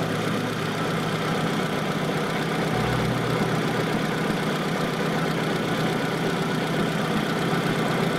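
A 2015 Mitsubishi T120 SS pickup with a 1500 engine idles steadily and evenly, a constant mid-low hum with no speech.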